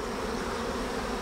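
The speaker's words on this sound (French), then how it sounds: "y a beaucoup de circulation d'abeilles" Honeybees swarm densely around an open hive with heavy traffic at the entrance, a continuous close buzzing drone.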